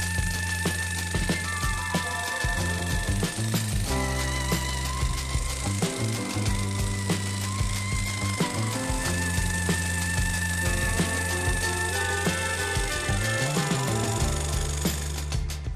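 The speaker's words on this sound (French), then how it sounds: "je vais utiliser ma grignoteuse" An electric nibbler chews through 2 mm copper plate in a continuous, loud, rattling grind with fast repetitive clatter and shifting pitch as it cuts, close up and without talk.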